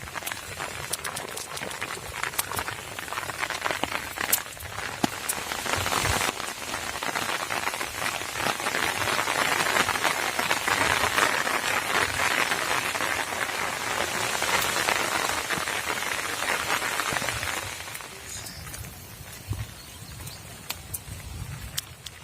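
Steady rain pours down outdoors in the Himachal hills as rice cooks in a pot, a dense, close patter with scattered sharper drops that keeps going for about eighteen seconds before easing off, with no voices.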